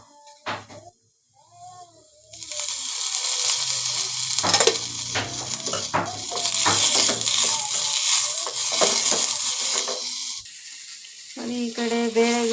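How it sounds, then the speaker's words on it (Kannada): Tomatoes frying in a pan: sizzling with scrapes and clinks of stirring, starting quietly and then building to a steady hiss, with a few sharp taps and a short voice near the end. "ಟೊಮೆಟೊ ಚೆನ್ನಾಗಿ ಹುರಿತಾ ಇದ್ದೀನಿ"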